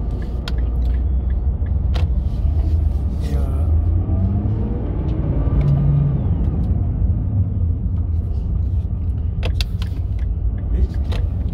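Nissan GT-R Nismo cruising through Tokyo streets at night, a steady low engine and road rumble filling the cabin continuously, with faint clicks and a brief rising tone midway.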